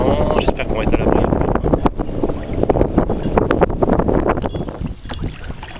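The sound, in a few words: wind while sea kayaking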